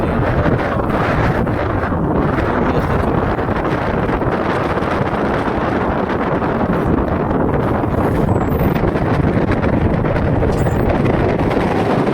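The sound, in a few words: boat ride on the river, wind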